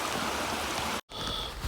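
Water in a creek flows steadily as a broadband rushing wash, broken by a brief cut of silence, then resumes at the same level.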